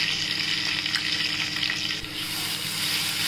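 A paste of green chilli, garlic and ginger hits hot oil with mustard seeds, cumin and curry leaves, producing a dense steady sizzle, close and fairly loud, with a slight spatter change partway through and no voices.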